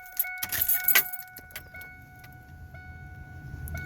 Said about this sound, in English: Now, all I gotta do is just start up the truck.